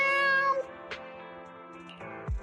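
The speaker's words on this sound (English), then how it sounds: "Has Nekomata become a real cat?" A cat meows in the video game Genshin Impact, a drawn-out tonal meow followed by a couple of short chirps, clear and close with little else around it.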